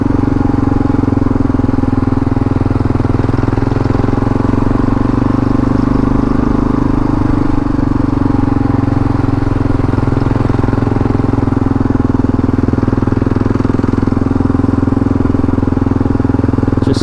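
Kawasaki KLR650 motorcycle riding in second gear at high altitude, a steady close engine drone with rushing wind, continuous and fairly loud with no talk.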